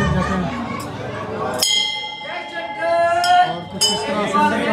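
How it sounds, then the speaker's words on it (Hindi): A temple bell rings at a Maha Shivratri celebration inside a Shiva temple in Punjab, Pakistan, giving bright metallic clangs with long ringing tones over a crowd's chatter and chanting, struck a few times close by. "यहाँ पे देखें बिल्कुल सामने में घंटी है।"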